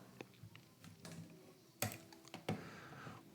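Sharp key clicks on a computer keyboard during a data-analysis session, a few scattered taps followed by two louder distinct presses near the end, close and fairly quiet.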